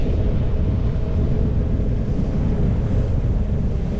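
Strong wind buffets the microphone while cycling through Poltava, Ukraine, a constant heavy roar, low and loud throughout, with no speech.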